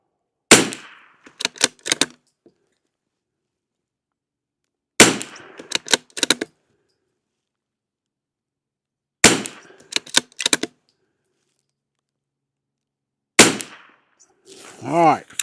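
Rifle firing CCI SV subsonic rounds at a range, four sharp close shots spaced a few seconds apart, each followed by brief clatter and handling noise, with quiet gaps between.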